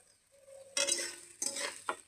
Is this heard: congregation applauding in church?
no